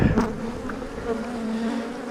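Honey bees buzz around a hive colony with nectar-filled frames, a steady close droning hum that carries on without pause and with no voices over it.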